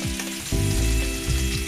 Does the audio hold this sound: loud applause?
no